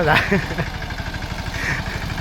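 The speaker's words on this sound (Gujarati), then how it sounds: "કાકાને ટ્રેક્ટર ચાલુ કરવા આવ્યા હતા" A tractor engine is started and runs with a steady, low, chugging pulse close by. A voice speaks briefly at the start.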